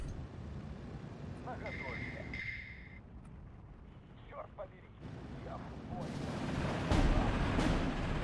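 Bombing and artillery explosions rumble through a Steel Division 2 battle, with dull thuds and crackling blasts mixed among game sounds. Someone talks over part of it, and a louder burst comes near the end.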